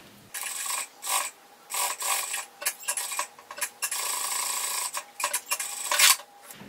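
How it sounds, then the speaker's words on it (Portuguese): Sewing machine stitching a fabric strap for a round children's crossbody bag, running in several short bursts and longer steady runs with brief pauses between, close and fairly loud, no talking. "vou dobrar ao meio e vou passar uma costura aqui, juntando uma borda na outra"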